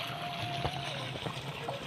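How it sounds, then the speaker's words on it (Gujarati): Irrigation water flows steadily into a groundnut field, making a continuous rushing, gurgling wash with a faint tonal hum underneath and no voices. "જોઈ લો પાણી પણ ચાલુ થઈ ગયું છે"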